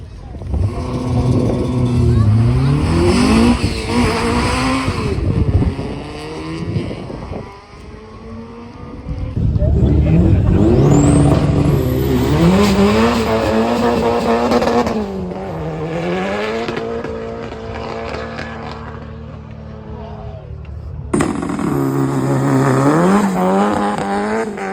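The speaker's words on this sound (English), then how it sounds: "Just driving out to the drags at the moment to watch Darian and Jack run their cars." Cars running at a car club quarter-mile drag strip, engines roaring loud and close in several hard-accelerating passes with rising pitch, separated by brief lulls, with some voices in the background.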